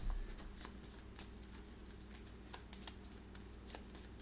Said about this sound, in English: And it's already time to shuffle.